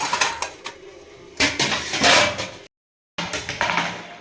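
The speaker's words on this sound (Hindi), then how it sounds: "ये बर्तन वाली डलिया हम खाली करके बर्तनों को ले जाएं" Steel dishes, lunch boxes and washed mixer jars clatter and clink in a basket as it is emptied and carried in a home kitchen, in repeated close bursts with a brief silence partway, and no one talks.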